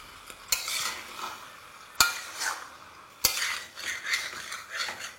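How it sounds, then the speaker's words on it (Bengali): Spring onion stalks and chopped tomatoes are stirred together in a sizzling cooking pan: a continuous close sizzle under scraping strokes, punctuated by three sharp metallic clinks of the spoon against the pan, with no talking. "তারপর এটাকে আবারও ভালো করে মিশিয়ে নিন।"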